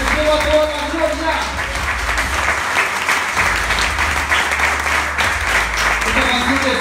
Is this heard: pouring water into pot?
no